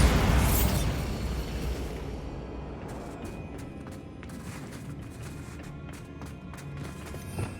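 The Bombarda spell in the video game Hogwarts Legacy sets off a loud explosive blast that decays into a rumbling, crackling tail with scattered debris pops.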